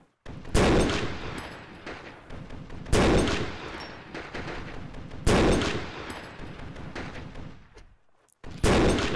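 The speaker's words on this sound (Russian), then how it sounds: "где-то пулемет работает" Distant machine gun firing in a zombie video game, heard as several loud, sharp bursts spaced a few seconds apart, each trailing off into reverberant rumble.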